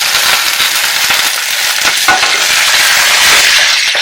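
Green chillies fry in a hot pan for an instant pickle, giving a loud, continuous crackling sizzle throughout, with occasional sharper pops and the scrape of stirring.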